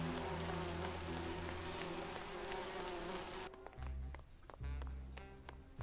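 Bees buzzing in the video game Grim Fandango Remastered: a continuous, dense insect drone, steady and close, that thins out halfway through into lighter buzzing with soft tapping beneath.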